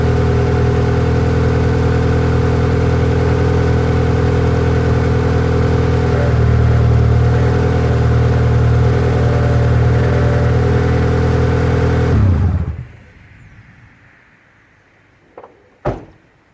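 A car engine idles steadily with a low, constant hum while the steering wheel is turned during a power steering fluid flush. The engine then cuts off, leaving near-silence broken by a couple of brief clunks.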